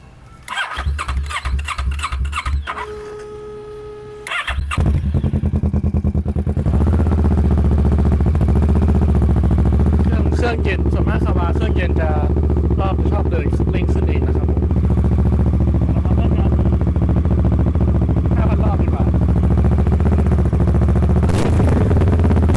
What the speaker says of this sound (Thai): เดี๋ยวเรามาฟังเสียงท่อกันดีกว่า